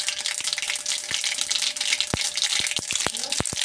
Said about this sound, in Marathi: मोहरी जिऱ्याची फोडणी दिली